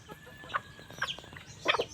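Small cream-coloured bantam hens give a few short, sharp clucks close by, spaced irregularly over a quiet background.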